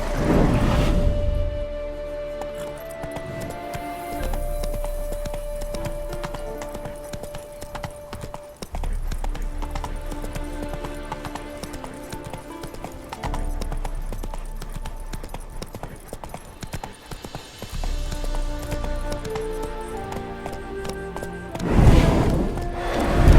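A horse in the video game The Witcher 3 trots with steady clip-clop hoofbeats. The hoofbeats run under game music and a constant background mix, with a louder clattering burst near the end.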